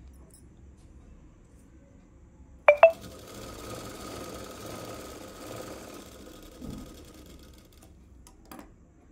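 A sewing machine stitches an umbrella dress. Two sharp mechanical clicks are followed by a steady, low running whir that lasts a few seconds and then dies away, with faint handling taps afterward.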